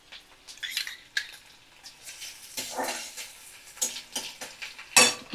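Chopped onion and green chilies fry in hot oil over a medium flame for a Bengali chana dal dish, with soft sizzling under intermittent stirring clinks and scrapes of a utensil against the pan.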